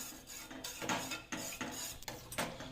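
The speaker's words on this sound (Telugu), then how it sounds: "ఈ మాదిరి మిక్సింగ్ అనేది చేసుకుంటానే ఉండాలి" Stirring carrot cream thickened with cornflour in a pan on a low stove flame, a spoon scraping and clinking against the pan bottom in steady repeated strokes, close and fairly quiet with no voices.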